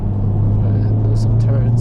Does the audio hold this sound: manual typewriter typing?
no